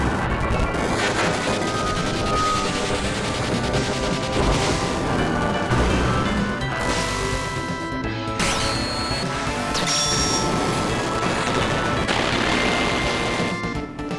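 Alexander's summon attack in the Final Fantasy VII video game unleashes a loud, sustained blast of crashing booms with game music woven through, dense and continuous from start to finish.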